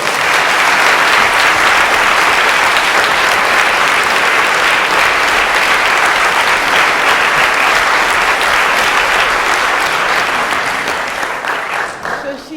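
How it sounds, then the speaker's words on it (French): A large crowd applauds loudly and continuously at a comedic courtroom-pleading show, the clapping holding steady before tapering off at the end. "Je vous demande donc une avalanche d'applaudissements pour Madame Anne Gruet, s'il vous plaît."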